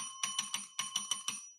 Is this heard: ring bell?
yes